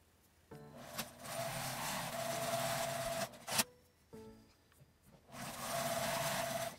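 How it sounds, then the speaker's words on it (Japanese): A sewing machine runs an edge stitch along a folded fabric card case, two sustained bursts of rapid mechanical whirring separated by a brief pause and a click, close and clear. "折り目のところに端ミシンをかけます"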